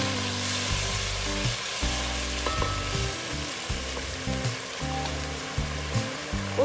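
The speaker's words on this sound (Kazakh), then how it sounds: "Енді оның үстіне қайнап тұрған су қосамыз." Tomatoes and meat frying in a pan as boiling water is added: steady loud sizzling and hissing with a low humming drone and small clinks, no talk.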